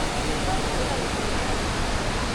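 Malibiclibic Falls roars as a dense, steady wash of falling water, close and unbroken throughout.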